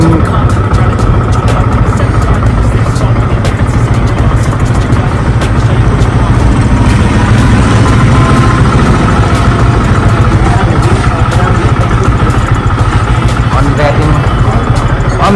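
A Yamaha MT 15 motorcycle engine idles with a loud, steady, dense rumble that runs without a break throughout, while people talk nearby.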